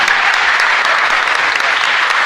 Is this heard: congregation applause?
yes